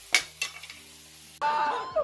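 Frozen Portuguese sausage set into a pan, a few sharp clinks of utensils against the pan, a short quiet pause, then a sudden burst of close, steady sizzling.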